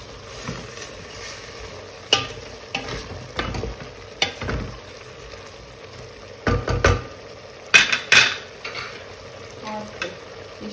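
Butter being stirred in a frying pan, about two tablespoons, with scattered scrapes and taps of the utensil against the pan over a soft, steady sizzle, with no talking.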